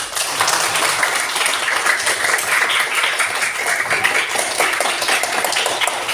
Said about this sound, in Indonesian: Tepuk tangan yang meriah untuk masing-masing kelompok.